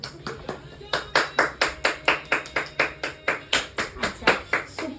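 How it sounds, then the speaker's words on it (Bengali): Children in a classroom clap their hands in a steady run of sharp, fairly loud claps, around fifteen in five seconds, with faint voices underneath. "জোরে জোরে সবাই হাততালি দাও না"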